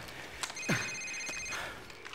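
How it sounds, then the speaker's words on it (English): A cell phone rings in the Call of Duty 4 Modern Warfare video game, a faint electronic ring with a brief sliding tone near the start, heard alone at low level. "Sir, it's his cell phone."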